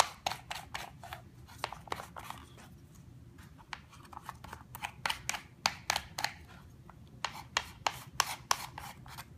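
A baked tortilla is rubbed and scraped to break off excess edges, making a series of quick dry rasping strokes in uneven bursts, close and fairly quiet with no talk.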